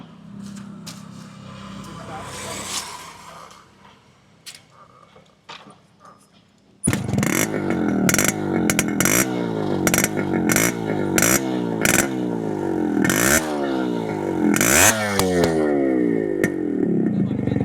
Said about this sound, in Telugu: ఇప్పుడు మనం దీన్ని ఎగ్జాస్ట్ నోట్ విందాం, అందుకే మైక్ ఇక్కడ పెట్టాను అనమాట